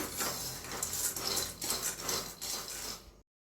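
Peanuts being lightly roasted in a hot kadai, a continuous dry scraping and rattling with light clinks as they are stirred, close and fairly quiet, stopping abruptly near the end.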